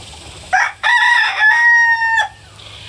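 A rooster crows loudly once, close by, near an outdoor wooden box holding baby chicks and chickens, a drawn-out call over a quiet background.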